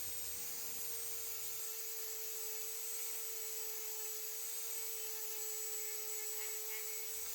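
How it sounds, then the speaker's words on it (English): A steady high-pitched rotary tool whine as a fine-grit sanding drum grinds continuously against a worry stone, a constant tone with faint abrasive scraping underneath, close and uninterrupted. "finer grit sanding drum"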